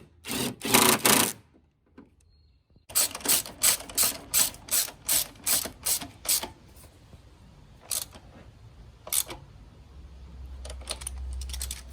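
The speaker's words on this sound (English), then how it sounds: "Just tighten up the bolts and we're good to go" A ratchet tightens the engine mount bolts on a Suzuki Swift in quick bursts of close, loud clicking, a long rhythmic run of strokes in the middle, then a few scattered clicks before a low hum.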